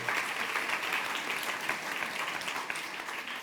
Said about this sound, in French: merci Georgina, on peut l'applaudir pour ce grand panorama.